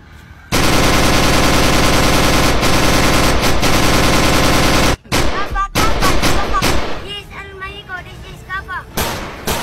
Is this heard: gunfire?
yes